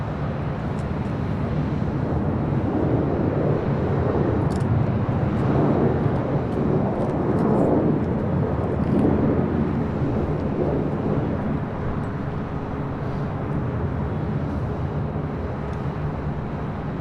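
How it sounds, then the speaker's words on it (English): A 23-year-old Delta Airlines Boeing 737-800 arriving at LAX from Seattle, a steady, loud jet roar that holds without a break for the whole stretch, with no voices over it. "Every time I always see these Delta 737-800s"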